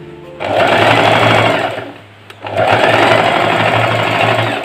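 A sewing machine stitches cloth for a traditional Kadazandusun garment, running loud and steady in a dense mechanical whir, pausing briefly midway before resuming at full speed.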